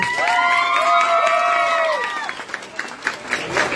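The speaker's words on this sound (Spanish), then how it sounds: "Queremos darle un fuerte aplauso a nosotros" A graduation crowd cheers with high shouts and whoops at first, then scattered clapping follows and builds near the end.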